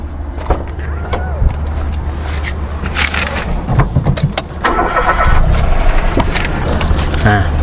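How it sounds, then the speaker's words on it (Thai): A Mitsubishi Mirage engine cranks and catches, then settles into a steady idle up close, with some rattles and clicks. "เครื่องยนต์นะครับสตาร์ตติดง่ายๆนะครับ"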